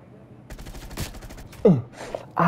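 An M60 machine gun fires in a video game as a rapid burst of close shots, followed by a few sharper, louder bangs and short vocal sounds.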